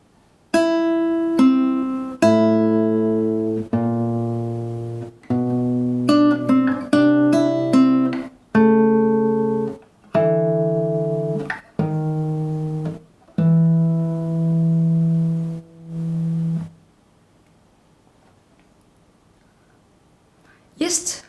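Plucked guitar notes in a slow melody with low bass notes woven underneath, clear and close, ending in a long ringing chord that fades to quiet.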